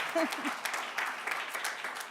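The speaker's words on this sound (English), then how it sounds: "Yeah, you can clap, come on. How do you not clap?" An audience at a White House community conference claps, a moderate sustained patter of hands; a voice briefly sounds near the start amid the clapping.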